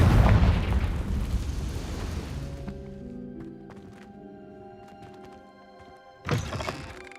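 A Confringo fire spell in Hogwarts Legacy blasts with a loud rumbling burst that fades into ringing, shimmering tones, then a second sharp impact bursts near the end.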